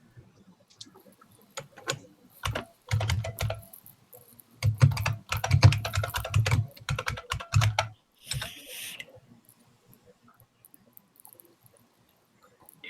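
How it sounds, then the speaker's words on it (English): Loud, clacky computer keyboard typing in quick bursts separated by short pauses, close and crisp, with a brief rustle near the end and no talking. "Damn, that keyboard's loud."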